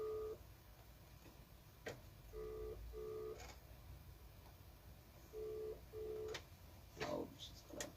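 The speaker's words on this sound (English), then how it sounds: "and the phone is ringing." A phone line rings in repeated short double bursts with pauses between them, a steady dual tone over faint background noise and a few clicks.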